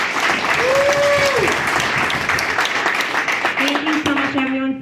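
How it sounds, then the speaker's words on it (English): A round of applause from an evening event crowd, steady and fairly close, dense clapping throughout with a couple of brief whistles rising above it. "Let's give him a round of applause."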